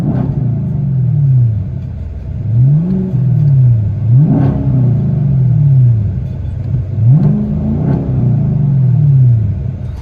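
Chevy Camaro SS with a 6.2-liter V8 and Flowmaster Outlaw exhaust with 5-inch tips, heard from inside the cabin: a deep rumbling idle broken by three strong revs that rise and fall, loud and close, with no talking.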